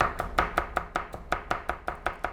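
A kitchen knife chopping food with straight-down vertical cuts on a board, about a dozen crisp, evenly spaced taps in quick rhythm, close and clear with no talking.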